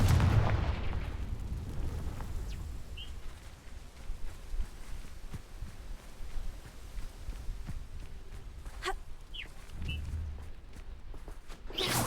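Blasting-spell explosions in the Hogwarts Legacy video game: a dense, rumbling barrage of booms and cracks, loudest at the start, then continuing with scattered sharp bursts and low thuds over a steady noisy bed.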